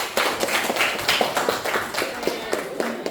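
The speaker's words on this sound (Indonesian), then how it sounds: "tepuk tangan untuk semuanya" Students in a vocational high school classroom clap for one another, a loose scatter of distinct, fairly close hand claps with uneven rhythm and no talk over them.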